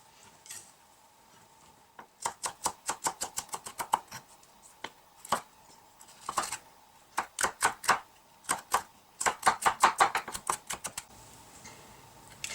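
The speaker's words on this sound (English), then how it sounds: "So I'm just going to chop these up finely and add it to the pot." Fresh chillies chopped finely with a knife on a cutting board, heard as bursts of rapid, crisp taps close up, each run of strokes broken by short pauses.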